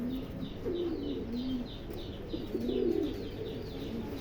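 A pair of blackless fancy pigeons coo softly and repeatedly nearby, low rolling calls overlapping in a steady rhythm against a faint background hiss.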